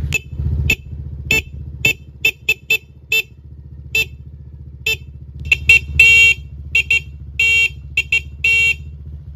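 Short, sharp toots from a SeaWorks replacement motorcycle horn ring out again and again over a running engine, close and loud, mostly quick beeps with a few longer held honks near the end.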